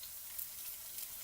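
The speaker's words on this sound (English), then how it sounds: "you want to fit as many lumpias into the frying pan as possible at one time" Filipino lumpia egg rolls crowded into a frying pan, sizzling in hot oil with a soft, steady hiss at low volume and no talking.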